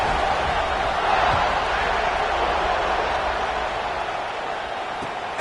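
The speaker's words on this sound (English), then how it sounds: "this crowd is buzzing after that last score" A stadium crowd buzzes steadily at a college football game against South Carolina, a dense, continuous roar of many voices at even loudness throughout, with no distinct cheers standing out.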